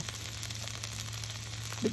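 Soft, steady sizzling of kale frying in a pan, a low crackle held throughout with a faint hum beneath and a brief clatter at the end.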